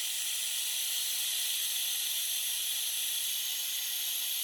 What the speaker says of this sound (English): I'm going to blow this out. I've got it hooked up to the air compressor.